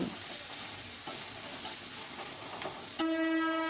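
Onions fry over high flame in a pan while being stirred continuously, giving a steady hiss of sizzling with faint scrapes of the spoon, moderately loud and close, then a sudden tonal hum near the end.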